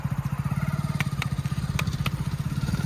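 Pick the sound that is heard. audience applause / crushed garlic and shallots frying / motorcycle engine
motorcycle engine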